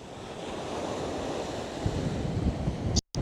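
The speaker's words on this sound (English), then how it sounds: "Choppy sea today, it's windy. You can probably hear even though I've got the muffler on." Choppy, rough sea waves wash against a small beach on a windy morning, a steady broadband roar with gusty wind buffeting the microphone throughout, ending in a brief dropout.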